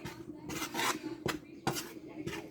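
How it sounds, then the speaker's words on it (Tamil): Puttu flour roasting in a pan on low heat, stirred with a utensil in soft scraping, rasping strokes that come in uneven bursts, close and fairly quiet with no talking. "இப்படி எல்லா மாவையும் நம்ம வறுத்து எடுத்துக்கலாம்."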